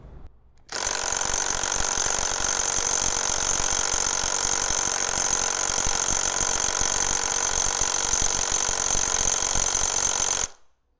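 An Ingco cordless impact wrench on its nut bust setting, pushing at about 700 newton meters against a nut it cannot loosen, hammers in one loud, unbroken burst of about ten seconds, then cuts off abruptly.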